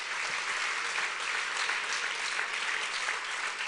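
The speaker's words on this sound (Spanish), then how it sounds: "Dale un aplauso fuerte de alabanza al Rey de Gloria." A church congregation claps loudly in praise during a sermon, sustained dense applause filling the room evenly throughout with no speech.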